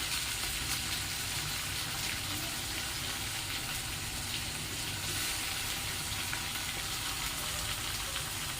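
Moong dal frying in a pan with a little water, giving a soft, steady sizzle and bubbling hiss that stays even and fairly faint throughout, with no voices over it.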